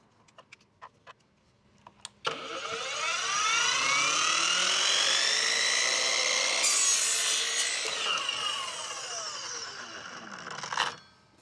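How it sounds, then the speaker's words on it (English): A $200 budget battery miter saw, sold under the Power Wheels name, makes a 0-degree cut through half-inch-thick molding. A few light clicks come first, then the blade's whine and the cut run for several seconds before spinning down. "a 0 degree miter cut on some molding"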